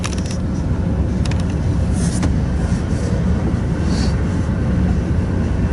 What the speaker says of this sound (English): I saw this train coming